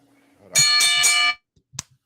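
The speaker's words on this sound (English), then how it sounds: "Guess it's time to ring that bell." A single bright ringing tone with steady harmonic overtones sounds for under a second, followed by a brief faint tap.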